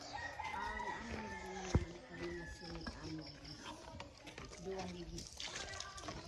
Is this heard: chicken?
yes